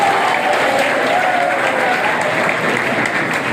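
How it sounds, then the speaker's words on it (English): A crowd at a school assembly applauding steadily, dense clapping sustained throughout at a constant, fairly loud level. "Kindly give him a good round of applause"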